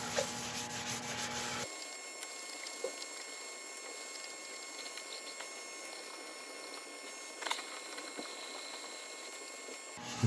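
Gold embellishing wax is rubbed onto turned wood, a faint, steady soft scrubbing under low room noise with a few light knocks, up close and without talk.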